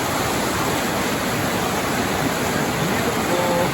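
Steady, full rushing of a mountain stream on the South Fork in the Wallowas, a constant broadband wash of flowing water close by with no pauses.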